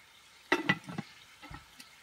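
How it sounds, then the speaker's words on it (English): Bacon frying in a 10-inch Dutch oven over coals outdoors, giving a faint sizzle with a few louder crackling bursts, heard alone and at some distance. "Bacon's over there sizzling away."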